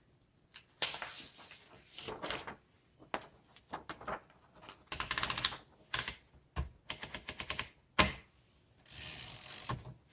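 Keys on a 1939 Underwood Universal manual typewriter clack in uneven bursts, with brief pauses and mechanical clatter between strokes, heard up close.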